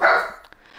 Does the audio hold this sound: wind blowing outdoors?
no